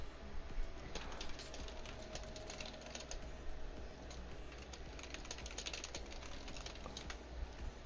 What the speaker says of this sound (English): I was typing this thing